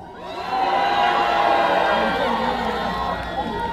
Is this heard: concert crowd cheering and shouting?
yes